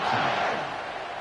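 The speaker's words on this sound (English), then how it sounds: "this crowd now ready to get behind them" A big college football stadium crowd at a Texas versus Georgia game roars just before kickoff, a dense loud wash of cheering that eases slightly after the first half second and holds steady, with no clear talk.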